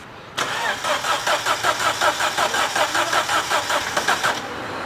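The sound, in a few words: car engine starting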